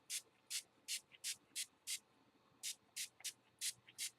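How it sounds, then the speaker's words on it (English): An aerosol can spraying pearlized white paint onto the top of a craft box, about a dozen short hissing bursts in a quick, slightly irregular rhythm, close and clear with no talking. "I'm going to give the top a few sprays of that, if I can get it started"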